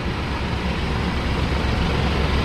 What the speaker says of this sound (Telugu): Prakash body, Ashok Leyland engine.